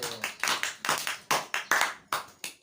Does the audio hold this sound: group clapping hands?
yes